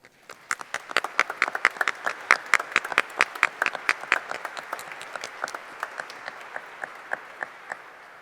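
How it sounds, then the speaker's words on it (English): A graduation audience at a Class of 2021 high school ceremony applauds the faculty and staff, with steady clapping from many hands building quickly and holding evenly throughout, with no voices. "So please join me in giving the faculty and staff a round of applause."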